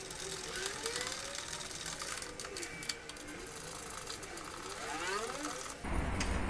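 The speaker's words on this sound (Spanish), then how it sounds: "Enchufamos el alzacristal y lo probamos." Electric rear window regulator motor from a Renault Megane Cabriolet, running on the bench with a steady, continuous whirring and grinding drone that shifts pitch as it travels, loud and close, with no talk over it.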